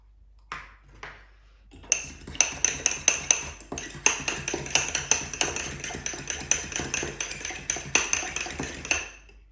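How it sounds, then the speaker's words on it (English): A fork whisks egg wash for scones in a bowl, making a long run of rapid, bright metallic clinks and taps with a steady rhythm, close and clear, with no talking. "Give it a mix with a fork."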